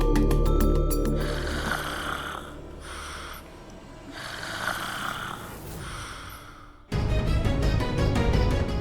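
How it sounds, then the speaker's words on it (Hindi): Loud, rasping snores come in slow repeated bursts, each drawn-out inhale rattling close by, with a brief burst of music in the background. "खर्राटे बंद कीजिए"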